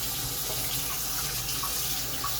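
A kitchen tap runs steadily at full flow into a sink while something is rinsed, a close, constant water rush throughout with no talking.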